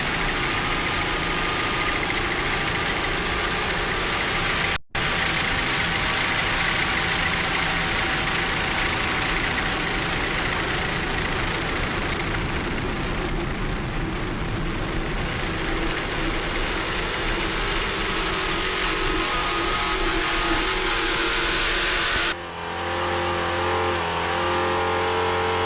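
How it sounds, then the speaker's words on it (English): Twin 1400 Stotler GM racing engines on an offshore racing powerboat roar loud and continuous, a dense sustained drone that cuts out sharply near the end. "putting the horsepower down, powered by a twin 1400 Stotler GM racing engine"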